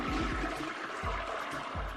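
A household toilet flushes, a rushing, gurgling swirl of water that pulses in rhythmic low surges, near and fairly loud, heard alone without talk.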